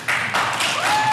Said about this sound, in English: Can you hold your applause, please?